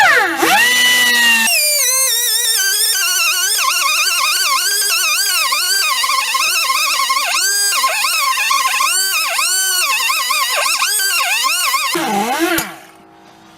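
A power buffer scuffs the inside of a tire around a puncture hole, whining steadily for about ten seconds with wavering pitch as pressure varies, then winding down to a stop.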